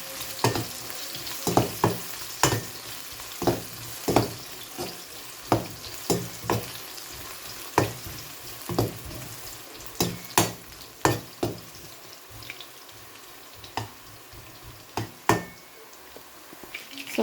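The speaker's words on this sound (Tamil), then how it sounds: "இப்போ நான் அதே சட்டியில் வந்து எண்ணெய் ஊற்றி இந்த கத்திரிக்காயை பறிக்க போகிறேன்" Eggplant fries in oil in a pan, giving a constant background sizzle. Sharp spoon knocks and scrapes against the pan break in at irregular intervals, loud and close throughout.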